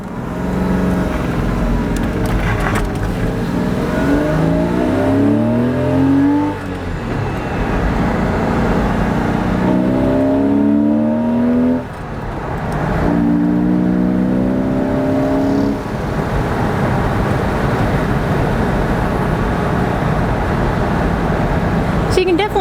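A 2001 Porsche Boxster S engine hums and rises through gear changes as it drives with the top down, with steady wind rush and a person talking over the motor.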